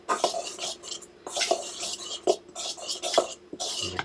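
A spoon mixes homemade dog food with fish in a bowl, producing close, wet stirring scrapes broken by several bright clinks of metal on the dish, with no voices.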